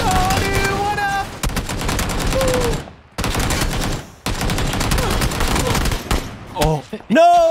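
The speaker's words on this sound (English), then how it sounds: "Somebody else sniped me with an AK." AK rifle gunfire in the battle royale game PUBG on the Erangel map: loud, close bursts of rapid automatic fire broken by brief pauses. A voice shouts over the final moments.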